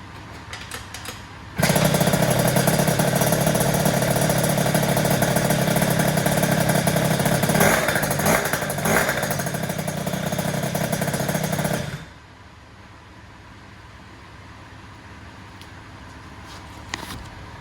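An Aerox RC ONE engine fires for its first start, bursting into a loud, steady, close running roar for about ten seconds before cutting off abruptly into quiet background.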